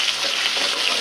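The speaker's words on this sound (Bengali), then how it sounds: "এই দেখেন আমি কত সুন্দর করে তেলের উপরে চিংড়ি মাছটি ভাজতে আছি।" Fresh shrimp fry in hot oil over a high gas flame for a spinach and shrimp curry, giving a loud, steady, close hiss of sizzling with no pauses.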